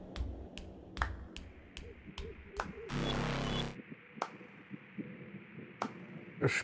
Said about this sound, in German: Jetzt klatscht er die ganze Zeit.